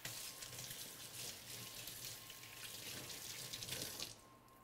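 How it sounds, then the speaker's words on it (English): Tap water runs steadily into a sink while hands are rinsed in a home kitchen during family meal prep, a continuous close splashing hiss that cuts off near the end. "give your hands a rinse off"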